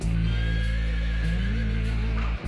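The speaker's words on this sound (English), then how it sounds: "there's horse neighing sounds in the background" A horse whinnies in a long, wavering call over a steady low hum, loud and close, lasting a couple of seconds.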